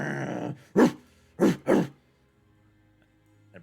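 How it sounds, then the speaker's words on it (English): A dog makes a low, rough growling sound, then gives three sharp, loud barks in quick succession, close by, followed by near silence. "At this moment, you hear the sound of a growling noise."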